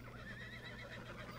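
A horse in Red Dead Redemption 2 whinnies over a low, steady hum of game ambience, the call carrying in a bright, wavering band without a clear break.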